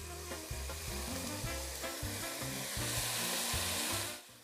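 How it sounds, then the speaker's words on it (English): Toasted risotto rice in a pan for courgette risotto sizzles and crackles hard as white wine is added to deglaze, making a steady, close frying hiss with no talk. "This is the noise that a good deglazing should make."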